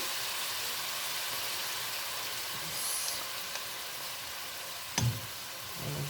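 Turkey sizzling in a pan on medium heat, a faint steady hiss and crackle that runs throughout, with a brief clink near the end.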